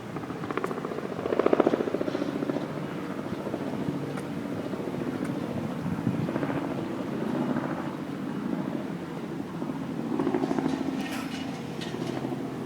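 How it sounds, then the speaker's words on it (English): Helicopter rotor drone hangs in the air overhead after a tornado in Goderich, a steady distant thrum with gusts of wind noise and no talking. "So we got helicopters all over the place."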